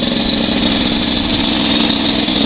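Beta 300RR two-stroke dirt bike engine running close up, a loud, steady buzzing drone with a fast even pulse and no pauses or speech.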